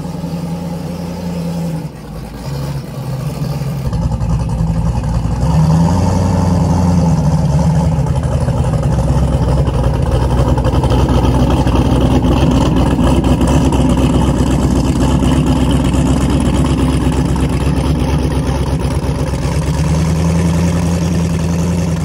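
Steady, loud engine roar from a car with an 1150 hp turbo LS engine plowing snow, holding a deep rumbling drone with slight revving swells throughout.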